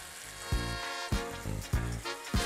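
Chicken fillets searing in olive oil in a deep wok, a soft steady sizzle broken by four or five clunks of a utensil or the pan at regular intervals, close but fairly quiet.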